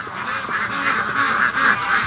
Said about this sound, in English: Let's let some ducks out.